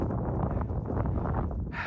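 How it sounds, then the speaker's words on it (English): Wind gusts buffet the microphone on a steep mountain hiking trail in the White Tank Mountains, a steady low rumble with brief rustling and no voices. "And it's getting pretty windy too."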